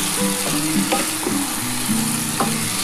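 Shukto spice mix sautéing in a pan, a loud close sizzle with scraping stirring strokes at irregular intervals, no talking over it.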